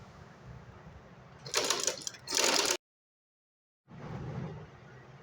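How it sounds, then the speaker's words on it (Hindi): Sewing machine running in two short stitching bursts along a reverse-side piping seam while making a loop on a frock, then stopping, then a steady hum as it resumes, fairly close and moderate in level. "अब देखिए हम लुप्पी की सिलाई लगाएंगे।"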